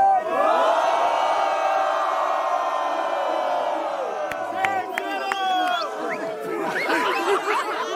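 Audience at the final of a Brazilian rap battle roaring with sustained cheers and yells, then breaking into scattered claps and a fresh wave of excited shouting and laughter toward the end.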